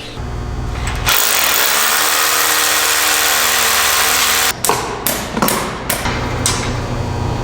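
A hammer drill bores in to lock down the center support leg of a CNC table with water pans: one long, loud, steady drilling run, then a string of short bursts.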